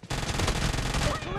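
Uzi submachine gun in PUBG Mobile firing one fast, loud, continuous burst of rapid shots, close up, lasting over a second.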